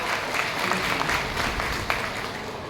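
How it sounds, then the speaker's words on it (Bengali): An audience at an Independence Day gathering claps in a steady, dense wash of applause that fills the whole stretch, moderately loud, with faint crowd murmur beneath. "আমরা একটা জোরে করতালি দিয়ে তাকে অভিবাদন জানাই"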